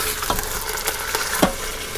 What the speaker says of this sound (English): Sizzling, popping.